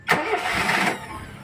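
A Kia CD5 engine cranks and catches with a loud roar, then settles into a steady mid-pitched idle.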